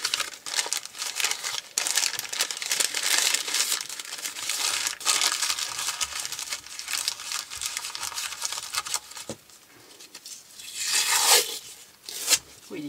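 Worn-out adhesive tape that no longer sticks is handled close by, crinkling and peeling with papery rustles and brief tearing sounds, with a short pause near the end before a final crackle.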